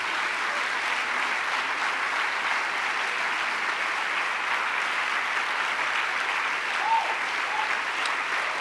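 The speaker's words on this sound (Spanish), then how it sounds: "Denle el aplauso más fuerte." A church congregation applauds loudly and steadily, a dense wash of clapping from a large crowd filling the room with no break.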